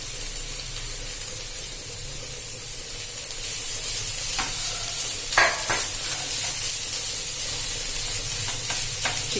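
Chicken sautéing with onions and green chilli in a pan for Pondicherry chicken bonda filling gives a steady close sizzle, with a few sharp stirring scrapes partway through and no talking.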